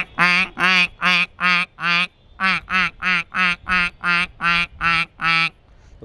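A person imitates a duck with a rapid run of loud, nasal quacks. About a dozen evenly spaced calls come close to the microphone, with a short break after the first five.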